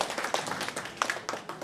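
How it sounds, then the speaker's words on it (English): Audience applause at a senior center, a quiet, short patter of clapping from a modest crowd in a room, fairly steady with a few sharper claps standing out. "Give her a big round of applause."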